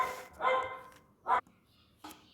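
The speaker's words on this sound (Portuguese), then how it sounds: "O cachorro estava latindo aqui." A dog barks three times, fairly close and sharp, with a longer first bark and short pauses between, in an otherwise quiet indoor room.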